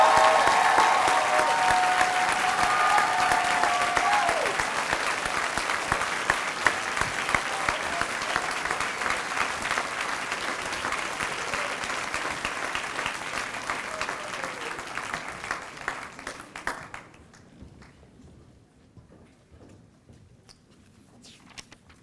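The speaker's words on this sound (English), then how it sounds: "I'd ask that all of the graduates would give them a loud round of applause" A graduation crowd gives sustained, dense applause for about seventeen seconds, steady and fairly loud, before it cuts off into near silence with a few stray claps.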